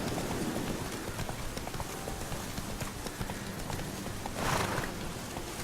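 Steady clip-clop of horse hooves trotting along a road in the video game The Witcher 3, close and continuous, with a soft whoosh near the end.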